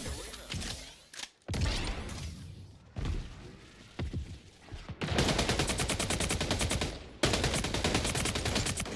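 Shotgun fire in the arena shooter Splitgate 2: heavy gunshot blasts and thuds mixed with rapid rattling bursts of fire, loud and busy, with brief drops to near silence between volleys.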